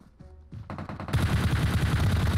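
Rapid gunfire in a multiplayer shooter video game, a dense loud burst of overlapping shots building from sparse pops into sustained fire over a second or so.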